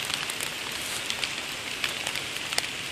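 A heavy, damaging freezing rainstorm in White Plains, New York pours down as a steady dense hiss of rain on surfaces, with brief sharper drop splats scattered throughout and no voices.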